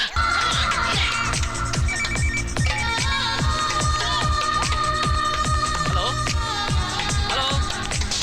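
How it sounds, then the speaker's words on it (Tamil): Mobile phone ringtone in a Tamil film scene, a loud repeating electronic melody with a steady beat that runs throughout, with faint speech beneath it. "என்ன சத்தம்? ஓ உன் போன் அது."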